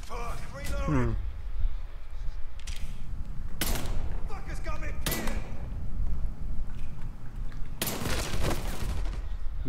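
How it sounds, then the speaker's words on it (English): Pistol gunfire in the video game Mafia 3, several sharp loud shots scattered over about ten seconds against a busy game background with clatter and rumble. "Pistol bullets."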